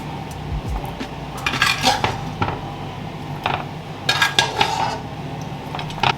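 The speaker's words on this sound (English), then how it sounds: "I'm gonna put my meatballs into my dish" Meatballs clatter into a dish in a home kitchen, with a few bright clinks of cutlery and dishware against a low background hum, close and moderately loud.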